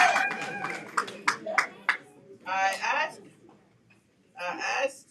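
Scattered audience clapping at a Liberian First Lady's visit, a few sharp claps mixed in with speaking voices and crowd murmur.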